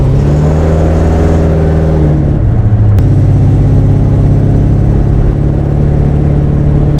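A 1955 Plymouth with a 318 Magnum V8 runs loud and close, holding a steady droning idle with a brief shift in pitch partway through and no voices.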